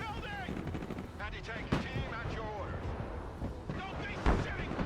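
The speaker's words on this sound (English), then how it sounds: "So I'm firing AT4s at him, but I don't think it's doing too much." AT4 anti-tank launchers fire in the Broken Arrow military strategy game, with sharp bursts and booms landing amid constant battle noise while someone talks over the action.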